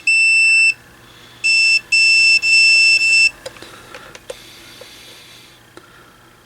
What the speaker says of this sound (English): I hope you can hear the meter beep